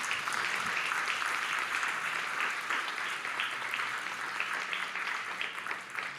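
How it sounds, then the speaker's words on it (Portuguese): A church congregation applauds during a sermon, a steady dense wash of clapping from a crowded room that holds at an even level without pause. "Será que você pode aplaudir o Senhor por isso?"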